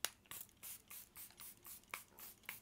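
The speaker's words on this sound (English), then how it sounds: "let me spray this on my face now" Charlotte Tilbury setting spray is misted onto a face in about eight short, soft hissing spritzes in a steady rhythm, close to the microphone and quiet.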